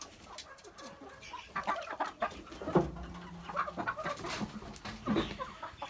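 Amrox chickens cluck close by in a steady, irregular stream of soft clucks and brief squawks, with a short crow-like call in the middle.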